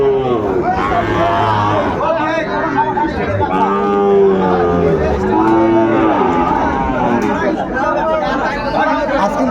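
A Sahiwal bull calf moos, long and drawn out, at a busy cattle market in Cumilla, heard close amid constant crowd chatter and people talking.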